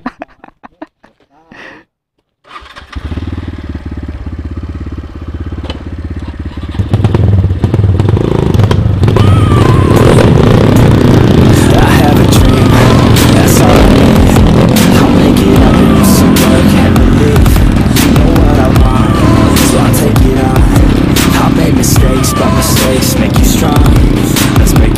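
Trail motorcycle climbing mountain roads and ravine tracks around Banjarnegara, recorded on a helmet action cam; after a brief quiet start the engine cuts in loud and close, revving continuously with wind rush and clatter.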